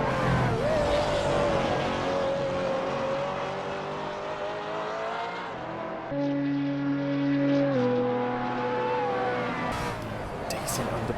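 A 2018 Brabham BT62 race car engine in a VR racing game howls and climbs in pitch, with quick gear shifts that drop and reset the tone. A driver talks over the engine noise.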